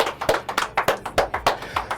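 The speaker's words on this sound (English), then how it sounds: "let's give him a round of applause real quick" Studio audience applause for a guest on a live weekly show, a quick run of sharp, evenly spaced claps, close and moderately loud with no talking.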